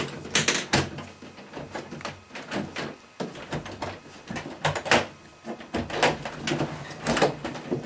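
Latches snapping open one after another on an Eastman K3 carbon fiber cello case, a series of sharp close clicks and clacks with handling noise between them.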